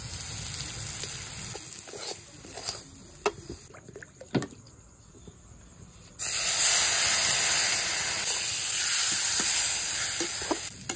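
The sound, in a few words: semolina added to hot pan, sizzling and steaming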